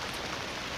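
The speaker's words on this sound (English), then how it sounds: "hopefully this rain goes away" Rain falls steadily at a campsite on the Art Loeb Trail, a dense, even hiss of drops without a break, with no voices.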